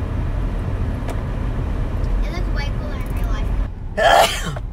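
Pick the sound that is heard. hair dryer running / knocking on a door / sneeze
sneeze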